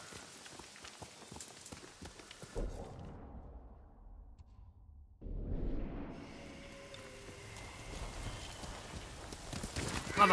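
A horse's hooves clip-clop in Ghost of Tsushima, a steady run of close hoofbeats with rain patter, dropping away briefly mid-stretch before the galloping returns with an engine-like rumble of ambience beneath.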